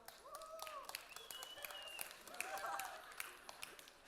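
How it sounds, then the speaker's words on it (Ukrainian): Audience at a stand-up comedy show clapping in a brief, thin patter at a distance, with a voice speaking over it throughout. "Хто вважає, що він не смішний, похлопайте, щоб я розуміла."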